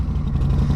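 A Harley-Davidson Softail Slim with a Vance and Hines exhaust rumbles close by in a deep, throbbing idle rev.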